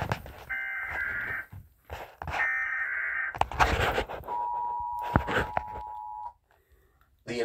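An emergency alert system tone plays in bursts: two harsh buzzing blasts, then a long steady pure tone, alternating with gaps and short noises before it cuts off.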